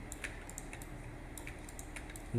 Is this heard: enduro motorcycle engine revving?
no